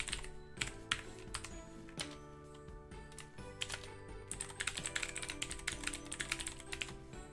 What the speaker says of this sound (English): I'm gonna type it out.